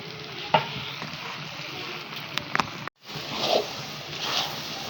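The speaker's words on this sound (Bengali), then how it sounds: "এখন সুন্দর লাড়ায় নিতেছি" Onion and egg masala (dim bhuna) frying in a pan while being stirred, a continuous sizzle with occasional scraping clicks of the utensil, briefly cutting out before the frying resumes.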